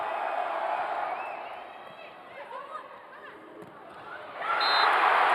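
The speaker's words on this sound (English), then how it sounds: "Yeah, it is a great crowd here" A large crowd roars and cheers in the Sports Pavilion at a Wisconsin–Minnesota college volleyball match, a steady wash of noise that dips briefly, then swells to a louder peak near the end.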